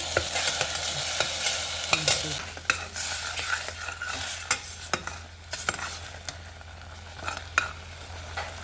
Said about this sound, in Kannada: ಮಸಾಲೆ ಒಳ್ಳೆ ರೋಸ್ಟ್ ಆಯಿತು